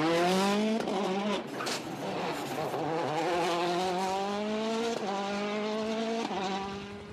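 Dani Sordo's Citroën WRC rally car on hard tyres on an asphalt stage in Strasbourg, Alsace, engine howling near and loud with repeated rising rev climbs broken by sharp gear changes, fading slightly at the end.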